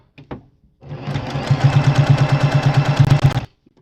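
A sewing machine runs steadily for a few seconds, its rapid rhythmic stitching loud and close, stopping abruptly; a brief soft sound comes before it starts.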